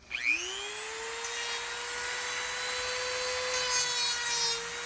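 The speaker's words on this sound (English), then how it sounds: "we're just kind of cutting him down probably about 1 centimeter, half an inch" A small plastic RC crawler driver figure for a 1/10 Jeep Wrangler has its legs shortened by about half an inch with a rotary cutting tool, a steady high whine that holds alone for a few seconds without talk.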